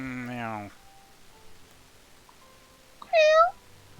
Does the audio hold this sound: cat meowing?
yes